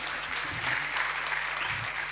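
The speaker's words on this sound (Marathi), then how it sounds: "एकदा जोरदार टाळ्या इनिशिएटिव्हसाठी व्हायला पाहिजे" Steady applause from an interview audience, a dense continuous patter of many hands clapping at moderate level through the whole stretch, with faint background murmur.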